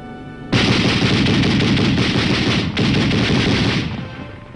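Sustained burst of .30 caliber machine gun fire, loud and close, a dense continuous rattle running about three seconds, a brief break, then more firing before it fades out.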